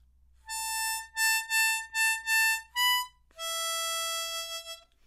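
A C diatonic harmonica plays a short melody alone: one long note, a series of repeated short notes, then a sustained lower note that fades out.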